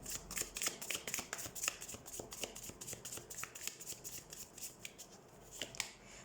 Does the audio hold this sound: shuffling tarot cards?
yes